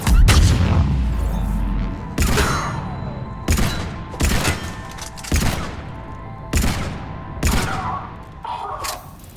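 Heavy gunfire in Mass Effect 3 during a battle on Omega: a series of about seven loud, booming blasts at irregular intervals, each decaying into a rumbling echo.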